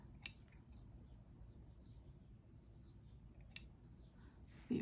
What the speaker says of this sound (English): Might just chop a few of these ends off.